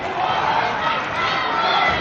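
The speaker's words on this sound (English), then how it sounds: "this woke up the Woodbridge crowd here" A Woodbridge high school crowd roars at a state tournament boys varsity basketball game after the home team ties it, a dense, steady wall of cheering and yelling that holds loud and unbroken throughout.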